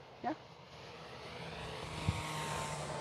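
A Tower Hobbies Seawind 1.4 m RC model plane flies over wet ground, its engine a faint, steady drone throughout, with a brief soft thump partway through.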